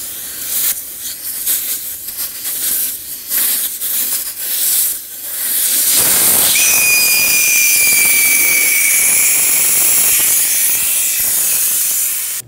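Air rushes out of a Chevrolet Sonic tire once the valve core is removed, a loud sustained hiss with a thin whistling edge. It starts abruptly partway through after quieter handling noises and continues to the end.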